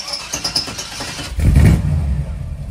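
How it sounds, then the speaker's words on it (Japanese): A 1957 Chevrolet Bel Air hardtop's starter cranks in quick rhythmic pulses. The engine then catches with a loud, deep rumbling rev and settles into a steady idle. "エンジンかけます。"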